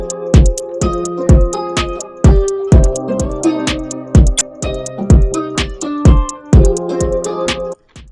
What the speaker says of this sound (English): As you can hear, it's delaying a lot.